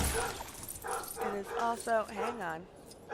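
A pet dog named Rusty yips and barks at the neighbors in short bursts, some with a whining rise and fall, close by, while someone speaks briefly over it.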